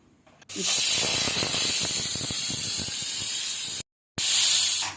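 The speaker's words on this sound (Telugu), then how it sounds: "ఒక మూడు విజిల్స్ తెచ్చుకుంటానండి మూడు విజిల్స్ వస్తే పప్పు చక్కగా ఉడుకుతుంది" A pressure cooker cooking soaked toor dal hisses loudly and steadily with steam for several seconds, drops to a brief silence, then resumes its close, forceful steam release.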